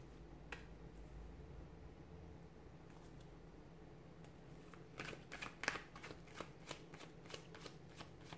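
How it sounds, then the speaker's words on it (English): Tarot cards being shuffled by hand, a quiet riffling and rustle that builds into a run of crisp, rapid card slaps and flutters in the second half, close and alone with no talk. "let's go ahead, give the cards a shuffle"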